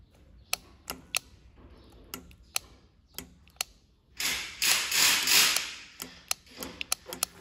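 A Mazda oil pressure control solenoid clicks sharply under bench power, a string of distinct close ticks at irregular spacing, with a brief burst of hissing noise in the middle.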